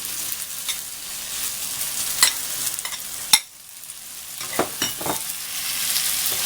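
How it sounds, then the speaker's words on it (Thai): Shrimp stir-fried with sataw beans and shrimp paste in a hot pan, giving a steady close hiss of frying broken by scattered scrapes of the spatula, with one sharp clack partway through. "ค่อยผัดครับ"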